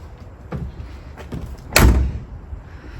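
The trunk lid of a 1976 Ford Granada is worked, giving a few soft knocks and then one sharp, close slam, quiet again just after, with no voices.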